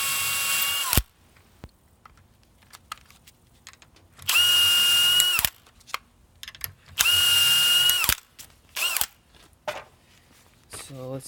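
A power drill drives screws into the hinge of a poorly made Jeld-Wen pre-hung door, three loud whirring bursts of a second or more each, separated by quiet gaps with small clicks and handling noises.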